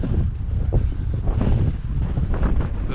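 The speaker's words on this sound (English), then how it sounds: "It's always very windy here. I don't know whether the microphone is reflecting that." Strong coastal wind near Aberffraw on Anglesey buffets the microphone in a constant, loud low rumble with gusty fluctuations throughout, and no voices.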